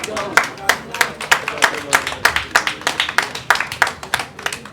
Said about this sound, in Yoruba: Pàtẹ́wọ́ ẹ̀jọ̀.